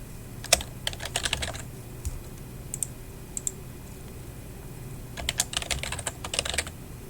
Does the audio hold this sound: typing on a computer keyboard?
yes